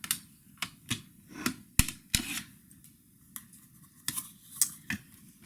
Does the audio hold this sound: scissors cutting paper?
yes